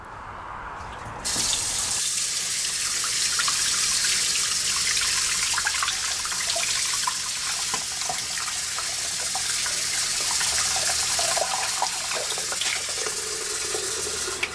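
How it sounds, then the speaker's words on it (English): Tap water runs into a sink while a Mi-Ken Disney pet clock is rinsed under it, a steady close gushing stream with shifting splashes as the clock is moved through the flow. "wash it off with clean water"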